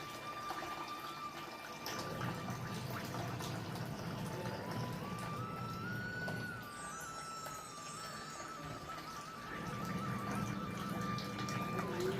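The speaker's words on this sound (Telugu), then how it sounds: "కొంచెం కదా వాటర్ అయితే పోసుకుందామండి" Water runs and splashes steadily into bowls, a continuous close pour with a faint tone shifting underneath and a brief pause before it resumes.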